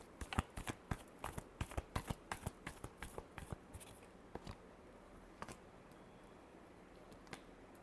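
Tarot cards being shuffled by hand, a rapid run of crisp papery riffles and slaps for about four seconds, then quieter scattered taps, close and alone without talk.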